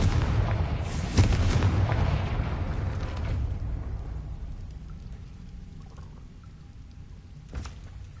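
Confringo fire spell blast in the video game Hogwarts Legacy: a loud booming explosion with a crackling burst that rolls into a slowly fading rumble, then a softer second whoosh near the end.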